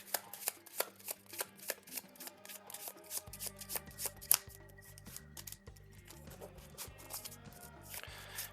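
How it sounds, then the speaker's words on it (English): A deck of playing cards is riffled and shuffled in sharp, rapid bursts of crisp flutters, close by, while a low rhythmic music bed runs underneath. "Shuffle, shuffle, shuffle."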